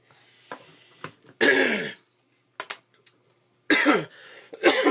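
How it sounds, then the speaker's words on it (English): A person coughs in several harsh, rough bursts with short pauses between them, close and fairly loud. "coughing, choking to death"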